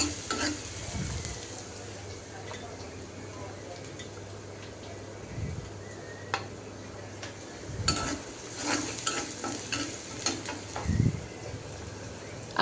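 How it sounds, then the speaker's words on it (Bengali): Dal being tempered with spices in hot oil sizzles softly in a pan, with a few scattered clinks and stirring knocks over a steady low frying hiss. "এখন ডালটা বাগার দিব।"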